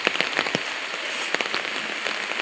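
Heavy rain pours down in a steady broadband hiss, with scattered crackling drops striking a surface nearby.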